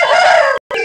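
A rooster crows loudly and close at a village poultry market in Anantapur, one long call that cuts off abruptly, followed by a brief start of another crow.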